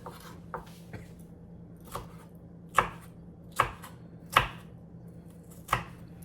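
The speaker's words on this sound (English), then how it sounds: "Now we're going to take it and dice it." Knife dicing a green bell pepper on a cutting board, heard as about eight sharp chops spaced irregularly, with the later ones louder and close up, over a low steady background hum.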